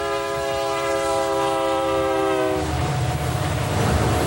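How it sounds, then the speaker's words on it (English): A loud, sustained train horn blares, then gives way to the heavy, continuous rumble of a passing freight train. "that sounds like a freight train"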